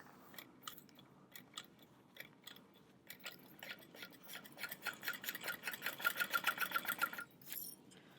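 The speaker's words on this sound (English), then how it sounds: "And then you're sewing next to, but not through, the bottom panel stabilizer." A sewing machine stitches through the layered panels of a convertible bag, running alongside the bottom panel stabilizer. Short separate bursts of stitching build into a faster, louder, steady run close by, with no talking.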